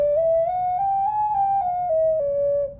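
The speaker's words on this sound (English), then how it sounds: "So that's a really successful whistle" A single sustained toot from a handmade clay whistle, one clear steady note that rises slightly then falls back, sounding close and alone for nearly three seconds.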